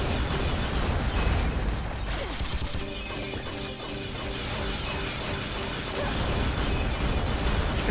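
Grenade blasts in the game Devil May Cry 3, loud crashing bursts and shattering debris with mechanical clatter, dense and continuous over several seconds.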